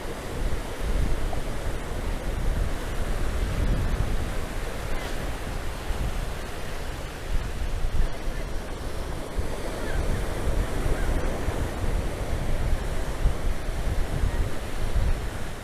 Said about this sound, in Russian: Ух, какая волнища!